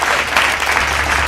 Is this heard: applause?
yes